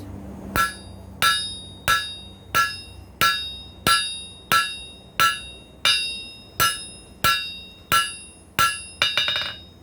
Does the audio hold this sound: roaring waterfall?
no